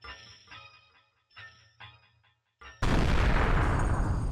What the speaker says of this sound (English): an explosion echoes from behind, drowning him out